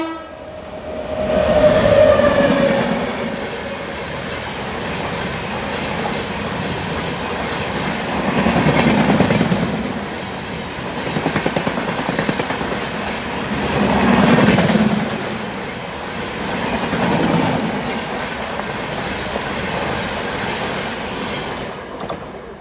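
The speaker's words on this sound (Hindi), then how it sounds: "लो जी क्रॉसिंग वाली ट्रेन तो आ चुकी है।" A crossing train passes an Indian intercity express on the Delhi–Fazilka line, opening with a held horn note and followed by loud, repeating surges of wheel clatter as each coach rolls past.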